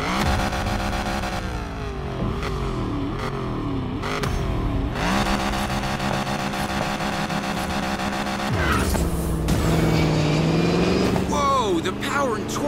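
A souped-up Mustang roars through a race in Need for Speed Payback, the engine revving and shifting through rising and falling pitch sweeps, loud and continuous, with tire noise and a voice talking over it.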